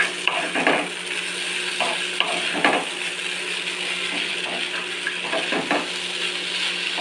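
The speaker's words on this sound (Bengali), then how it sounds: "গ্যাস একদম কমিয়ে কমিয়ে এটাকে ভাজতে হচ্ছে, যাতে পুড়ে না যায়" Sago is stirred and fried on a very low flame in a pan for sabudana pulao, with steady sizzling and repeated scraping strokes of a spoon against the pan, close and continuous.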